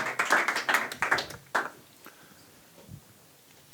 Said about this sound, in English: Applause to Didzis and Game Changers.